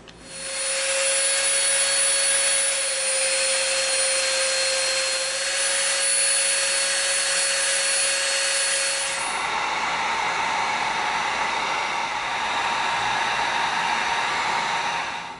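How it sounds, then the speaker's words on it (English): A Dremel rotary tool sands the edge of a cut EVA foam piece, giving a steady high-pitched whine that shifts tone partway through as the tool bites into the foam, running alone without talk. "now we're gonna Dremel the edge of this off."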